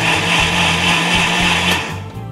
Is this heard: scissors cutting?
no